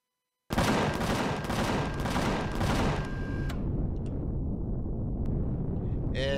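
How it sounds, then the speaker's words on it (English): Sustained heavy gunfire in the space survival game Empyrion - Galactic Survival, erupting suddenly after silence as loud rapid volleys, then trailing into a rumbling roar. "I'll start shooting. We'll all start shooting."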